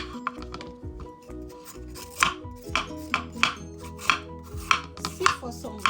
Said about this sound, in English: Next, I'm going to be cutting the carrots.